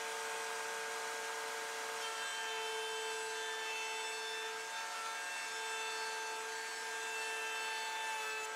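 A router cuts a T-slot track into a wooden board for workshop fences and sleds, a steady high-pitched motor whine with a slight dip in pitch as the bit bites, loud and close throughout.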